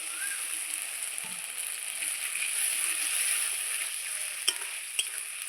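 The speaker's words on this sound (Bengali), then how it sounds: "এবার বাটি দিয়ে সামান্য পরিমাণ জল দিয়ে দিচ্ছি" Water poured from a bowl into onion paste masala frying in a pan for fish kalia, a steady close sizzle with soft stirring and a couple of sharp ladle taps near the end.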